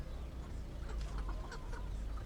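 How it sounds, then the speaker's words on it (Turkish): Chickens cluck in short, scattered calls at a busy poultry market, heard at moderate distance over a steady low background rumble, with no talk. "Oo çok güzel bir et tavuğu var maşallah."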